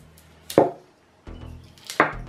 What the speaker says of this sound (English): Okay, that we have to cut with my big knife